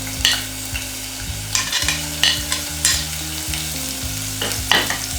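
Chopped ginger and green chili fry in oil in a pan, a steady close sizzle punctuated by regular scraping stirs, over soft background music and with no talking.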